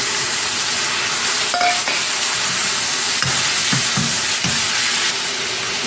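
Chopped tomatoes stirred into frying onions for idli kurma, a steady broadband sizzle with several scraping spoon strokes near the end, close and fairly loud with no talking.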